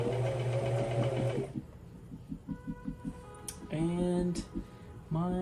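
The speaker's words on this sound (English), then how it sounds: "just be patient and let the sewing machine do its work" Home sewing machine stitching the collar of a Jedi outer tunic, a loud steady whirring run, then short start-stop bursts of stitching with pauses between, close by.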